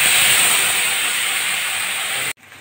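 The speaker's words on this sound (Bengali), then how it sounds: "পাতা পাতাটুকুন ঢেলে দিচ্ছি তেলের উপরে।" Pumpkin leaf paste hits hot oil tempered with nigella seeds and a dried red chilli, giving a loud, steady sizzling hiss that runs unbroken, then cuts off abruptly near the end.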